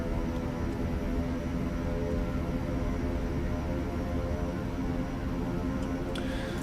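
Simulated King Air C90B EVO turboprop engines taxiing in X-Plane 12, a steady droning engine hum with a constant low throb, unchanging throughout and heard alone.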